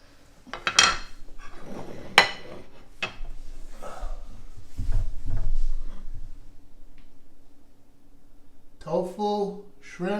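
A fork and other cutlery clink against dishes during a meal of tofu and shrimp: a few sharp metallic taps early on, softer handling in the middle, then a brief clatter near the end.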